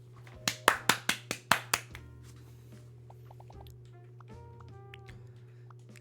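About seven sharp hand claps ring out in quick succession, fairly close and loud, followed by quieter scattered taps and clicks.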